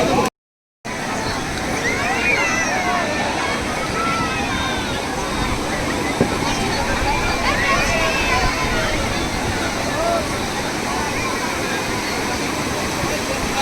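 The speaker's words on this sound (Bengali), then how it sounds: "সমুদ্রে জোয়ার যখন আসে কীরকম ঢেউটা উঠে দেখুন" High-tide sea waves on Digha beach roar continuously and loudly up close, a broad surging wash with a crowd's chatter mixed into the surf.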